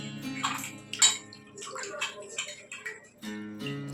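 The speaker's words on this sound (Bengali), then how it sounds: "এবার আমি তালটা ধুয়ে নিয়েছিলাম, আর একটু ধুয়ে নিই।" A palmyra palm fruit is washed in water with splashing, dripping and sloshing in uneven bursts, close and moderately loud, with tonal hum in the background.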